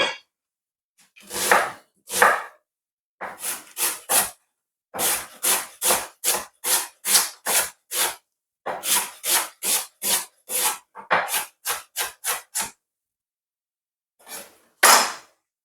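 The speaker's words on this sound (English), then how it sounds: "I'm gonna cut these onion up" A knife cuts through onion on a board for Jamaican oxtail, loud and close, falling in irregular bursts of rasping, scraping strokes with short pauses between runs and no talk.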